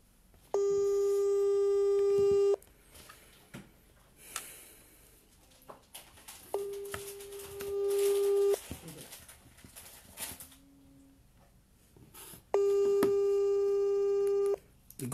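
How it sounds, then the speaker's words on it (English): Telephone ringback tone from a call placed to a governor, three long steady tone bursts separated by quiet gaps, with faint background noise between them. "The governor phone is ringing now."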